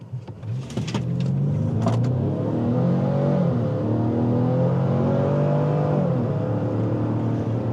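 A Lincoln Nautilus Reserve AWD accelerates from inside the cabin, its engine note climbing smoothly through rising revs with a gear shift partway, loud and steady with no talk.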